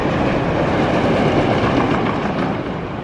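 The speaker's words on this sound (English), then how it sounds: "I really love the sound that the old wooden coasters make" The Big Dipper, an old wooden roller coaster at Blackpool Pleasure Beach, roars along its track in a dense, loud, continuous rattling rumble close by.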